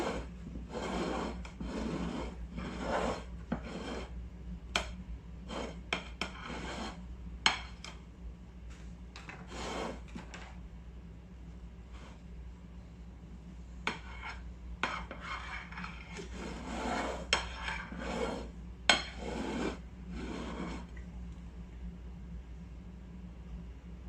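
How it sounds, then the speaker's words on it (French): A spatula spreads cream around the edges of a sponge cake, making repeated soft scraping and smearing strokes with occasional light clinks against the plate, fairly close and without talking. "Et on fait les bords avec la spatule."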